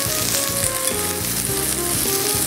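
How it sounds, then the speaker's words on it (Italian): Friggitelli peppers sizzle in olive oil with tomato in a frying pan, a steady, close crackling hiss that runs throughout with faint tonal music beneath. "in un'altra padella andiamo a saltare i nostri friggitelli"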